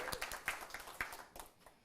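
A modest audience at a storytelling event claps in a brief, sparse burst of separate hand claps that thins out and fades within about two seconds.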